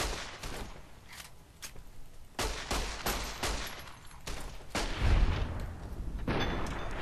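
Repeated gunfire from the video game Fallout: New Vegas, a series of sharp shots at irregular intervals with a heavier close blast near the end, loud over continuous background noise.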